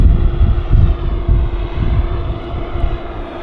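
Loud, steady roar of airliner engines at Vancouver Airport, a dense continuous rumble with a faint tonal hum running through it, close and unbroken with no voices.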